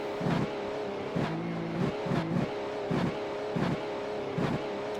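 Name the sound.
race car slowing toward pit road in iRacing video game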